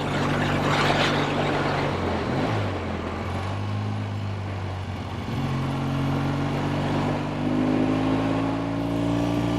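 A 1964 Triumph Bonneville T120 restored motorcycle engine riding by, its note rising with revs, dropping at gear changes and climbing again, loud and close throughout.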